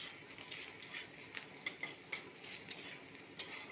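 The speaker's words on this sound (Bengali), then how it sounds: "রসুনটাকে দিয়ে ভালোভাবে একটু ভেজে নেব।" Chopped onion and garlic fry in a pan for a kidney bean curry, a soft steady sizzle punctuated by light clicks and spatula taps, close but fairly quiet, with no talk.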